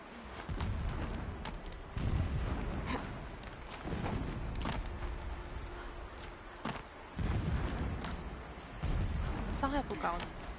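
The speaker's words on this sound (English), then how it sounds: "Explosions in the distance." Deep muffled booms from distant explosions in the video game Horizon Zero Dawn roll in repeatedly amid rumbling game noise, with a voice talking over parts of it.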